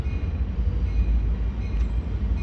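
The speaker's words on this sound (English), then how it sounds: "Here it comes. Capital Quarter Train 727. Now arriving here" A low, steady rumble of an Amtrak Capitol Corridor passenger train arriving at San Jose station at a distance, with faint rail noise and no voices.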